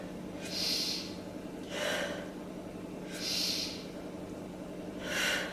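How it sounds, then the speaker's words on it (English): Slow, deep breaths during a yoga pose: two full inhale-exhale cycles, each breath a soft airy rush lasting about a second with pauses between, close and steady with no talking. "Take 3 breaths here."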